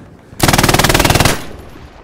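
Machine gun in the World War II shooter game Hell Let Loose fires one loud, rapid sustained burst of about a second, with evenly spaced shots, then the sound falls away.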